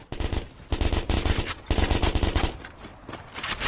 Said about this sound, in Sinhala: ඒ ඔක්කොම වෙඩි තියන්න බා